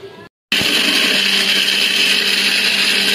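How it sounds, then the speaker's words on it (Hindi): An electric grinder grinds garam masala, starting with a sudden loud, steady motor whine after a moment of silence and running on evenly and up close until the end. "गाइस अभी ये गर्म मसाला ग्राइंड हो चुका है"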